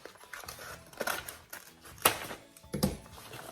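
Craft material for decorating a jewelry box is cut in half, giving a few irregular snipping and rustling sounds, close and quiet, with no talking.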